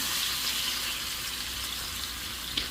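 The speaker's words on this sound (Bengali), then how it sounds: "মাছগুলো এবার ভেজে নেবো ভালো করে" Rohu fish pieces fry in hot oil in a pan, making a steady, moderately loud sizzle and crackle throughout with no voices.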